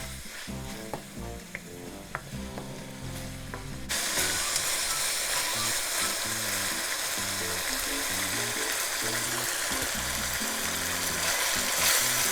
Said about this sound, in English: add 1 tablespoon chili garlic sauce and stir fry them together